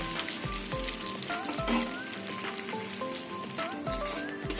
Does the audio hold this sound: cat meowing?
no